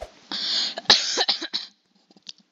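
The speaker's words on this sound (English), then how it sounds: "cough, cough." Several harsh coughs in the game Murder Mystery 2 come in quick succession, close and fairly loud, then fade into a few faint sounds.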